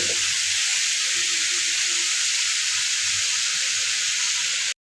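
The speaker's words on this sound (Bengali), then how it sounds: "তো আমার করলা আর আলু ভাজি দেখছেন, এরকম বেরেস্তার মতো করে ভাজতে হয় আমার" Bitter gourd and potato fry crisp in a pan with a loud, steady, hissing sizzle that runs unbroken and then cuts off abruptly at the very end.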